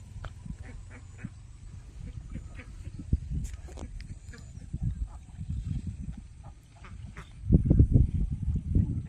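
Country ducks quack and dabble in green water in winter, with repeated nasal calls from a small group nearby, scattered splashing and feeding sounds, and a burst of louder activity near the end.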